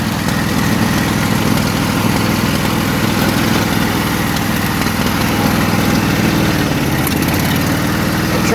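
A Craftsman small engine runs steadily and loudly with the choke on, a rough, uneven idle, never stopping from start to finish.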